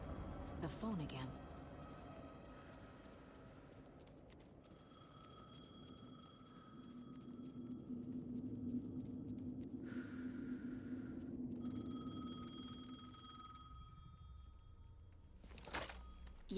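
A telephone rings in the horror video game Alan Wake 2, with repeating electronic ring tones sounding in bursts over a steady low ambient rumble and game atmosphere, no speech over it.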